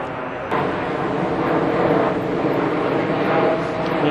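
A fixed-wing aircraft passes overhead in London as a steady, broad distant roar that swells slightly and holds throughout, with no talk.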